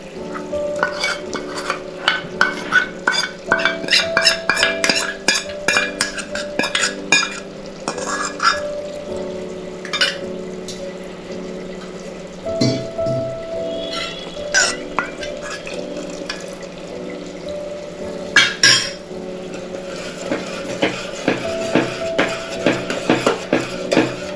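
Vegetables stir-frying in a pressure cooker with yogurt added for veg biryani, a steady sizzle under repeated scraping and stirring strokes, close and fairly loud, with faint background hum.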